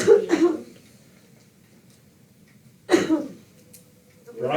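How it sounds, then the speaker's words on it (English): Two dry coughs sound in a meeting room, each a short rough burst about three seconds apart, with a quieter throat sound at the end. "Dry cough."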